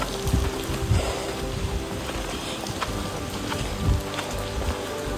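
Steady rain falls outdoors in Bali, a dense, even patter across the whole stretch with a few louder splashes and no voices.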